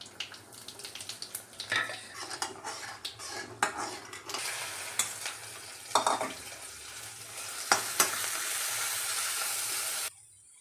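Okra fries in hot oil with mustard seeds, urad dal, dried red chillies and asafoetida while a spoon stirs and scrapes the pan, giving steady sizzling broken by repeated metallic clanks and scrapes, close and busy before stopping abruptly.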